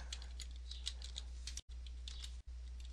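Computer keyboard typing while writing VBA code, rapid light key clicks in small irregular bursts over a steady low electrical hum, close and without speech.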